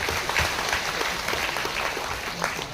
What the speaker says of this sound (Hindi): थोड़ा सा ताली मार दीजिए